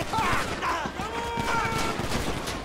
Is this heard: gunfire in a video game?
yes